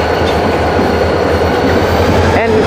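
A CN freight train hauled by four locomotives rolls past loud and close, its wheels rumbling and clattering continuously, with a brief wheel squeal near the end.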